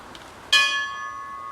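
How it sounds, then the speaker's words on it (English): A fire apparatus bell rings once at a firefighters' memorial service, a single clear metallic strike that hangs and slowly decays with long ringing overtones against quiet outdoor background. "with the ringing of the apparatus bell to signify their last call to duty"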